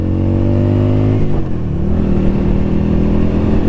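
Yamaha V Star 250 motorcycle engine running loud and close, a steady idle rumble that dips briefly as the pitch shifts, then settles into an even, unbroken drone.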